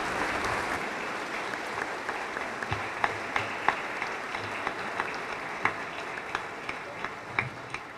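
A congregation applauds a newly ordained deacon at a diaconal ordination in a parish church, with steady, sustained clapping from a large crowd and a few sharper individual claps standing out, fairly loud throughout.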